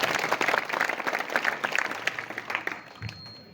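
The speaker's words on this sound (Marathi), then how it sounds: "आवडला असेल तर टाळी वाजवा." A crowd claps at a Shiv Jayanti kirtan gathering, a short burst of scattered hand claps that thins out toward the end.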